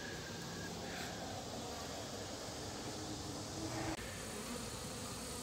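Honey bees buzz on a brood frame lifted from a backyard hive, a dense, steady, close hum of many insects that continues unbroken, with no talking.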